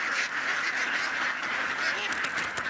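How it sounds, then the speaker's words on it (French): Thousands of ducks released into rice paddies quack together in a dense, continuous, loud chorus, with overlapping calls filling the whole stretch. "Des milliers de palmipèdes qui, dans un joyeux cancadement, s'ébrouent en quelques secondes sur des hectares de rizières."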